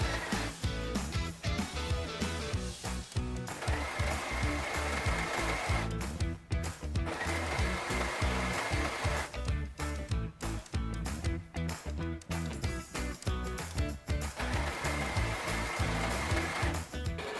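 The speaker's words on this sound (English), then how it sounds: "First I had to finish all of the edges with my overlock machine because the fabric easily frays." An overlock machine runs steadily while finishing the fraying edges of fabric for a dress underskirt, a continuous close mechanical whir with short pauses and restarts throughout, no talking.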